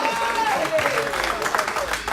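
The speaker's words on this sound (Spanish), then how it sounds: "Fuerte ese aplauso al Dios Todopoderoso de esta hora." Applause from a church congregation, a short dense burst of clapping with voices and crowd noise mixed in throughout.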